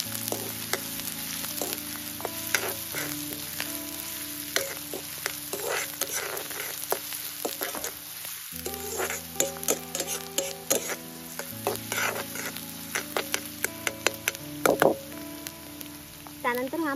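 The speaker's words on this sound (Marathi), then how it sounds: "त्यानंतर मी कांदा घालते। कांदा थोडासा मऊसर होईपर्यंत परतून घ्यायचा आहे।" Onions sautéing in a pan of hot oil with mustard seeds, for a Konkani-style fresh cashew curry. Steady close frying sizzle with occasional clinks and scrapes of stirring, and no talk.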